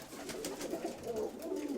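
A pigeon gives soft, repeated rolling coos at a dovecote loft, moderately close but quiet, in a loose rhythm of several calls with no talk.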